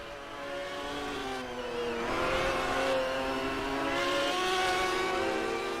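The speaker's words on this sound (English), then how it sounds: "Car's now making their way up the hill" Historic GT1 race cars climbing a hill at the Patriot GP. Their engines drone and rev steadily, with shifting pitches and several cars overlapping at a moderate distance, and no talk.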